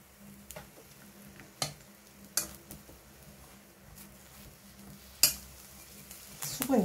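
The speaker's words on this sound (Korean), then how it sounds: "그래서 앞뒤로 노릇하게 구워줄 거예요" Eggplant slices pan-frying until golden on both sides, a soft low sizzle with occasional sharp clicks and taps of a utensil against the pan, close and fairly quiet.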